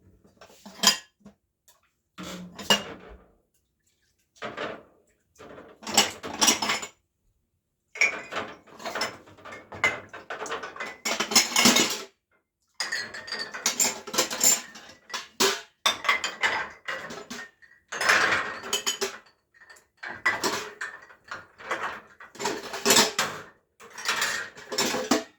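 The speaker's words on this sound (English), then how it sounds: "I'm gonna put my dishes in there to soak." Dishes are placed one after another into a tub of soaking water in an off-grid kitchen, a steady run of close clinks, clatters and knocks of crockery and cutlery with short quiet gaps, with no one talking.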